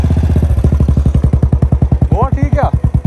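A motorcycle engine runs close and loud with a fast, even thumping pulse throughout, and a voice speaks briefly over it near the end.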